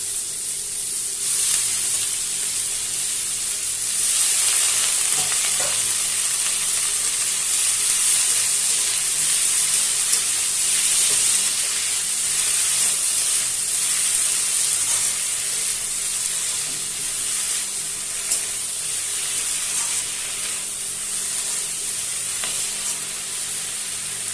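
Malabar spinach leaves with boiled stems and potato frying in a pan, a steady loud hissing sizzle lasting throughout with occasional stirring scrapes.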